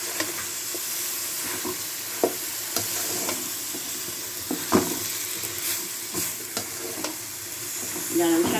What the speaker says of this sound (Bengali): এই দেখেন তেল উঠে গেছে মশলা। এখন শাক দিয়ে দিব।